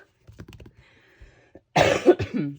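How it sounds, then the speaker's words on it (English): A single loud, harsh cough from someone getting over a cold bursts out after a few soft, quiet spoken sounds, close to the microphone. "I'm getting over a cold, so a little bit of a cough yet"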